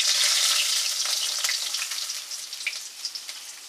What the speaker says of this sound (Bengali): দেখুন মাছটা আপনারা এরকম করে ভাজবেন।